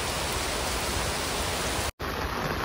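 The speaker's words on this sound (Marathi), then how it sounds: "पाऊस किती जोरात पडलाय" Heavy monsoon rain pours down steadily in a rural Konkan setting, a dense, even hiss filling the whole clip. It cuts out for a split second near the end, then resumes just as loud.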